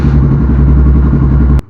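A Suzuki DR350 dual-sport motorcycle engine runs loud and close just after an oil change, a steady throbbing single-cylinder idle with mechanical clatter that cuts off abruptly near the end.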